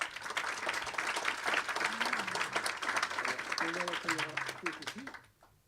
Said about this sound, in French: On peut applaudir très fort Dushan.